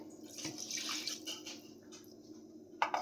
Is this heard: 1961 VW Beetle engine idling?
no